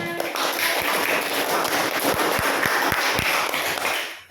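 A classroom of children applauds together, a dense, steady wash of clapping that holds evenly for several seconds before tapering off, with no voices over it.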